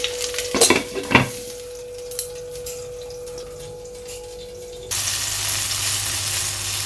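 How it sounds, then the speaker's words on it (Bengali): Salted, turmeric-rubbed eggplant slices frying in oil, a sizzle with a few sharp clinks of utensils early on, then a louder, steady frying hiss near the end. "একটা বেগুন আমি একটু ধুয়ে কেটে লবণ হলুদ মেখে নিয়ে নিয়েছিলাম সেটাকে আমি ভাজা করে নিলাম"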